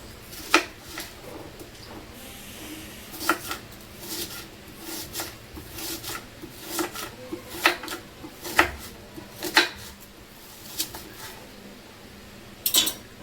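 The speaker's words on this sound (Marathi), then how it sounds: "कांदे आपण कापून घेणार आहोत।" A knife cuts onions on a board for a chutney, making irregular sharp taps and thuds close by. Quieter scraping and rubbing fill the gaps between the cuts.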